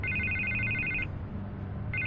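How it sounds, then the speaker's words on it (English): A phone rings in the Batman Telltale video game: a steady electronic ringtone for about a second, a short pause, then the ring starts again over a low background hum. "I can't get the phone to stop ringing."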